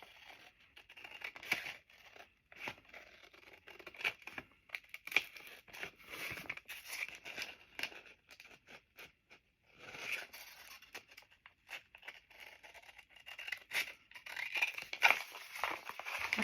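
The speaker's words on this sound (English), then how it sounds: "And then I'm going to cut it from the other side with my scissors." Scissors snip through a gelli plate paper print in a series of close, crisp cuts and paper rustles, irregular and quiet with brief pauses between strokes.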